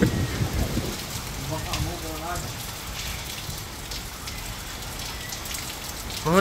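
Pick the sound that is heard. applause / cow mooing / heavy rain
heavy rain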